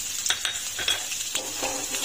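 Onions sizzle and fry in hot tempering oil for dal. A steady crackle runs underneath while a spoon stirs and scrapes the pan in repeated short strokes, close and clear, with no talking.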